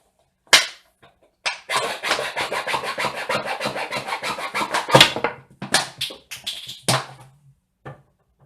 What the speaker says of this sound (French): c'est scié au bord